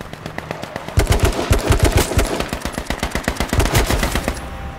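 Sustained automatic AK rifle fire in the video game H1Z1, with a long rapid string of loud, close shots that keeps a steady rhythm for several seconds.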